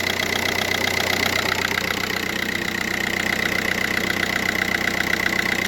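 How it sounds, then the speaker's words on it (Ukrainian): A Seat Alhambra 2.0 engine idles steadily up close after an oil change and valve cover gasket replacement, with an even mechanical ticking and a constant low hum throughout, no voices. "Отак працює двигун."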